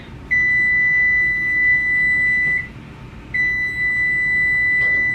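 A kitchen oven timer beeps in two long, loud, high-pitched tones separated by a short gap, with faint room noise beneath.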